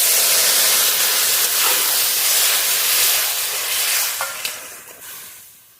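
Water poured into a hot pan of frying kochur loti and prawns bursts into a loud, dense hiss of steam and sizzle that slowly fades over several seconds, close up with no voices.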